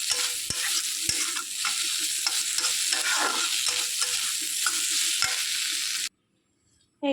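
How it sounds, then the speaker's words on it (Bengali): Prawns fry with onion in a pan under a continuous close sizzle, broken by regular scraping stirs and sharp ticks before the sound cuts off near the end. "দিয়ে বেশ ভালো করে নেড়ে চেড়ে নেবো, নিয়ে আরেকটু ভাজা মতো করেই নামিয়ে নেব।"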